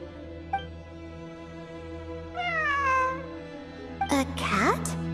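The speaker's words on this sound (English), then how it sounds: "It really is a cat." A cat meows in the Genshin Impact video game: a short faint mew, a longer drawn-out meow, then a sharper, higher pair of cries near the end, heard over a steady background hum.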